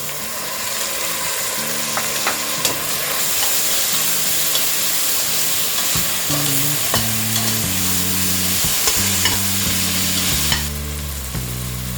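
Finely chopped tomatoes and softened onions sizzle steadily in a hot pan while a spoon stirs them, with soft scraping strokes repeating under the constant frying hiss and no talk.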